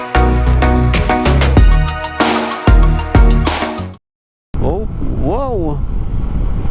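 A motorcycle engine labors as it climbs a steep uphill road toward Taytay Falls in Laguna, revving loudly in surges before cutting out briefly, then returning more faintly beneath a rider's voice.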